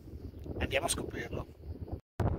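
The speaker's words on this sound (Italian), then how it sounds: "scusate il vento" Outdoor wind buffeting the microphone near Sperlinga castle in central Sicily, rough gusty rumble under someone speaking Italian, cutting out briefly near the end before returning.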